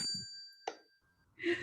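A single clear bell ding rings out to signal that time is up at a community pitch competition, ringing on briefly before fading, with voices talking around it.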